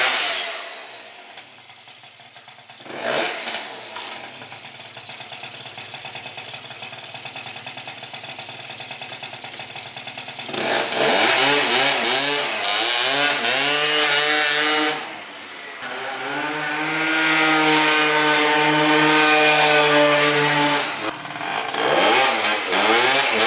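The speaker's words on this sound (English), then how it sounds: "today I wanted to get the motor in, get it started and start the break-in process" A rebuilt junkyard Yamaha Zuma scooter engine starts up after a motor swap, coughing briefly before catching, then idling and revving in loud, rising and falling bursts up close with no talking.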